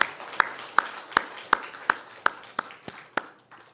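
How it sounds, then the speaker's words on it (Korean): A church congregation claps in welcome during a Sunday service, a slow, even series of about ten distinct claps, spaced roughly a third of a second apart and fading slightly toward the end. "크게 박수로 환영하겠습니다"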